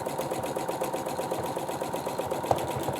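Domestic sewing machine set to straight stitch running in reverse through fabric, a steady rapid mechanical chatter of needle strokes sustained throughout at close range with no talk.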